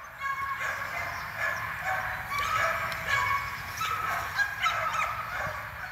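Several dogs bark and yip repeatedly at a distance in an animal park in Bell, Germany, a continuous overlapping chorus with no one speaking.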